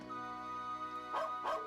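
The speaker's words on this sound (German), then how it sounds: "Hey, das ist noch ein Hund." Dog barking in Trails of Cold Steel 2 on PS5: two short barks near the end, heard over a steady game music bed with no talk.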